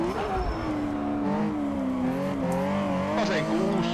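A race car in a racing video game, likened to a modern Group B car, drones with a steady engine tone that rises and falls in pitch, with brief tire noise near the end and no talk over it.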